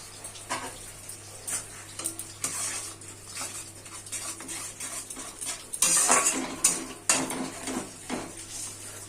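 Spice masala is sautéed with a little water in a pot for a katla fish curry, with a close, steady sizzle broken by repeated clinks and scrapes of a spoon against the pot and a louder splashy burst midway.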